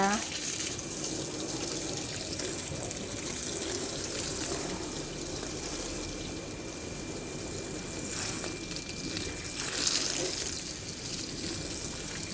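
Water runs steadily from a tap into a sink while something is washed, a constant splashing rush with faint voice in the background.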